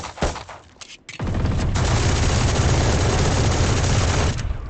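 Sustained automatic fire from an Odin machine gun shooting through a wall in a Valorant match: a brief pause after a few opening shots, then a dense, loud, continuous burst lasting several seconds.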